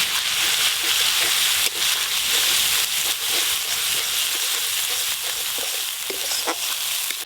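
Whole cumin seeds and spices sizzle and crackle steadily in hot oil, a dense, close frying hiss as the base for a duck egg curry, with occasional stirring clicks and no talking.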